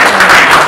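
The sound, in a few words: audience applause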